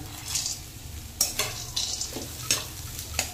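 Fried potato and roasted peanuts stirred in a frying pan, with a low sizzle throughout and several sharp scraping strokes of a utensil at irregular intervals, close by.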